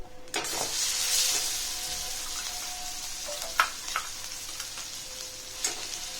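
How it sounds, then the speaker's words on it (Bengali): Spice paste with nigella seeds and turmeric hits hot oil in a kadai, giving a steady broad sizzle with a few sharper crackles and pops. No one speaks. "এবার কড়াইতে তেল গরম করে তাতে কালো জিরা পরিমাণ মতো হলুদ এবং সমস্ত পেস্টটা গরম তেলের ওপরে দিয়ে দিতে হবে"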